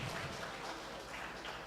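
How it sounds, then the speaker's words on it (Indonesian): Audience applause at a government-hosted stand-up comedy show in Magelang, a dense, steady wash of clapping that fills the whole moment without a break, with no voices rising above it. "bisa tepuk tangan dulu dong"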